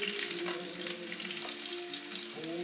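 Garlic and shallot sizzle steadily in a hot pan for a mussel dish, a close, continuous crackle and hiss with small pops and no talking.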